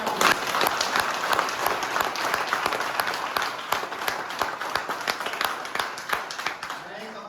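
At a Sunday business meeting, a crowd applauds steadily throughout, dense clapping from many hands that holds at an even level without pause.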